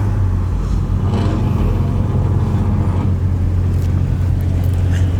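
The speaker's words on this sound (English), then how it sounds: "Damn, that boy truck loud as shit." A loud truck engine at a Bandas y Trocas truck show, a deep, constant rumbling drone close by with a heavy low throb holding steady over several seconds and no talk.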